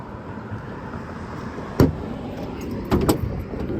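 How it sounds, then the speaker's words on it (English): Trunk of a 1968 Chevrolet Camaro convertible being opened: a sharp metallic latch clunk, then a second, softer double clatter about a second later, close by and otherwise quiet. "I'll open the trunk up here and show you the inside of the trunk"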